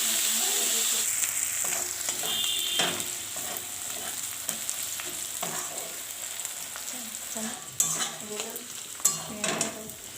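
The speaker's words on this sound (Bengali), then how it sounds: "পেঁয়াজটাকেও আমি লাল লাল করে ভেজে নিচ্ছি।" Onions fry in a pan for a Bengali chicken curry, giving a steady crackling sizzle close up, with repeated scraping and clattering as they are stirred and a few sharper knocks near the end.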